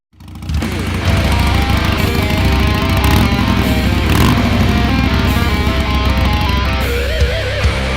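Harley motorcycle on a commute, its engine running loud and close with a rough, pulsing throb and wind noise throughout, steady from start to finish.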